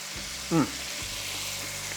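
Celery sizzles in a hot frying pan, with one quick toss producing a short burst of clatter and splashing before the steady frying hiss settles back underneath.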